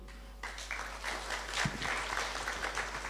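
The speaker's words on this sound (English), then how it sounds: "A round of applause to you." Audience applause for the moderators and panelists at a university responsible-computing workshop, a steady round of clapping from a room of people that starts abruptly and holds at moderate loudness throughout.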